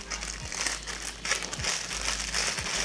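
Plastic packaging crinkles and rustles loudly up close while a cheap black waterproof housing case for a GoPro Hero 5, 6 or 7 is unboxed, a steady crackling with a few sharper crunches and no talking.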